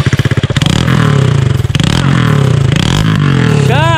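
A 150cc motocross motorcycle with its exhaust removed, running on just the bare pipe, roars loud and close with a harsh, rapidly pulsing bark that rises as it is revved.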